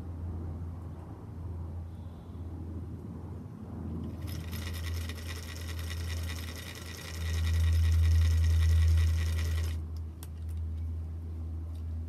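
A sewing machine stitches quilt strip sets together in a quiet room, a fast even whirring run of about six seconds over a low steady hum, close and moderately loud, starting and stopping abruptly.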